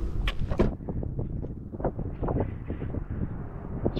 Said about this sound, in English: Pretty windy, actually.